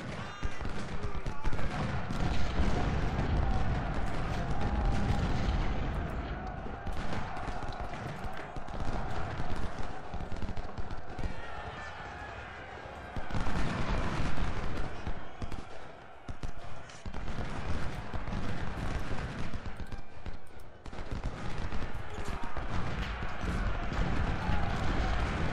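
A Civil War battle in a video game, with dense, continuous gunfire crackling and booming artillery, loud and busy throughout, with a voice talking over it.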